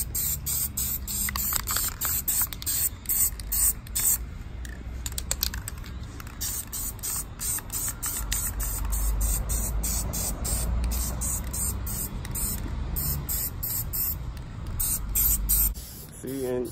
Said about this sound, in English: So we'll get them sprayed up.